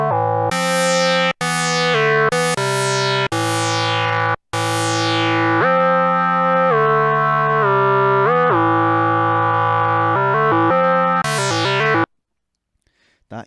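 A Korg Monologue synthesizer plays sustained, buzzy, distorted notes with portamento, gliding smoothly from pitch to pitch; the first notes are short stabs, then a long legato line runs for several seconds before cutting to silence.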